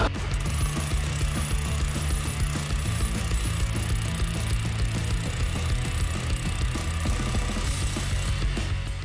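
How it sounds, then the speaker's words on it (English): A 20-pound hammer drill pounds continuously at close range driving a ground rod into the earth, a dense rapid rattling that stays loud and steady the whole time. "that new 20 pound drill, hammer drill press thing really did the trick"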